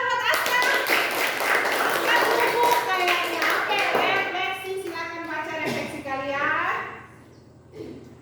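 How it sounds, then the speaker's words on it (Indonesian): Children clap their hands in a primary classroom lesson, with quick rhythmic claps running under loud children's voices chanting together before trailing off. "Tepuk tangan buat Aska."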